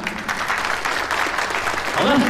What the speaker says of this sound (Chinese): 掌声再次恭喜她好吗